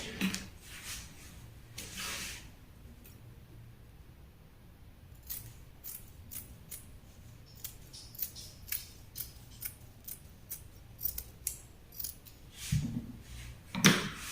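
Scissors snip through fabric for a bubu dress, a run of quiet, crisp cuts that come faster and closer together toward the end, with a few soft handling rustles and no talking.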